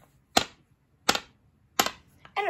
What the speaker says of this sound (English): stop banging your head on your desk!